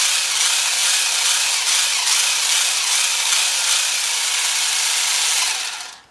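Wltoys 18403 RC car motor whines at a steady high pitch as it runs at speed, loud and alone, holding constant for about five seconds before cutting off abruptly at the end.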